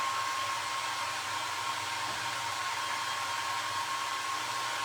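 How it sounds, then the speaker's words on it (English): A hair dryer blowing to dry Mod Podge on a rusty candle, a steady close whooshing roar with a thin whine, constant and unbroken throughout with no talk. "Let me just run the dryer on just for a quick second."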